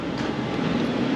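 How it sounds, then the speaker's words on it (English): Train at Portsmouth and Southsea station, in from Southampton, heard as a brief steady rumbling wash of rail noise at moderate level. "that's my train to our right. Just came in from Southampton."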